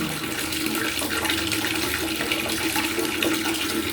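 Water gushes steadily from a household tap, dark discolored water, a loud continuous rushing stream close by with no pauses.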